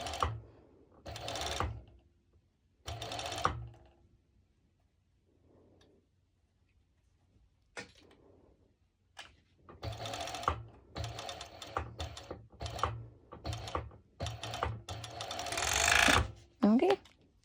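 A sewing machine stitching slippery bikini fabric slowly, in short bursts of rapid mechanical whirring separated by pauses, close by and growing busier toward the end, with faint handling noises between runs.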